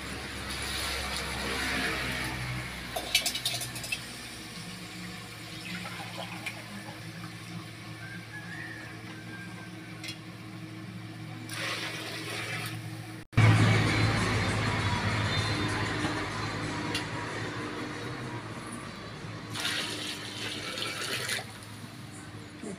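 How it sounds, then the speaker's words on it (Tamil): Water runs and pours into a cooking pot for vegetable biryani in a couple of stretches, a close splashing stream with some clatter of utensils between, and a voice talking at times. "தண்ணி ஊற்றிக்கலாம்"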